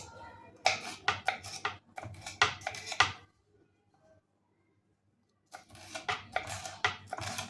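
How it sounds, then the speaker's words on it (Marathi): A knife chops capsicum into large pieces on a board with quick bursts of crisp, close taps, a short silent pause midway, then another run of cuts. "आता ही शिमला मिरची आपण मोठी मोठी कट करायची जास्त बारीक नाही कट करायची"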